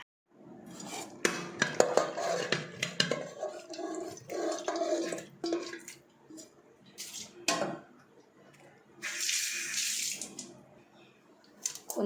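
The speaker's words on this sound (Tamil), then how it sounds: "மீனை நல்லா மஞ்சள் பொடி கல் உப்பு போட்டு கழுவிட்டு வந்துடலாம்" Anchovies are washed by hand in water with turmeric and rock salt: close splashing and sloshing mix with clinks of a metal vessel in irregular bursts, separated by brief quieter moments.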